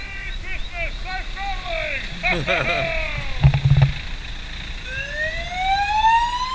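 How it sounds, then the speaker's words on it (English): Fire truck siren at night near a caravan park on the Yorke Peninsula, wailing tones rising and falling in sweeps over a steady engine rumble, with a brief low horn blast midway and the siren climbing again at the end. "I was stoked to see Santa on the fire truck."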